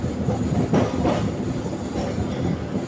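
A Kolkata tram rolls along its rails on a city route, with a loud, close rumble and rhythmic wheel clatter. A brief squeal rises over the steady run, and no one speaks.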